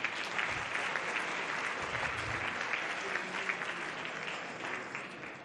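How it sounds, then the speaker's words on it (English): An audience at an awards-for-excellence ceremony claps for a young award winner, a steady, fairly distant round of applause that fades slightly at the end. "One of the young winners, a round of applause,"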